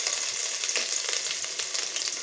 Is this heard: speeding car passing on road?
no